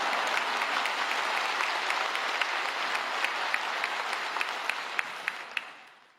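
A church congregation at a Wednesday worship service applauds to welcome the pastor, a steady wash of many hands clapping from a large crowd, fairly distant and even, thinning and fading out at the end.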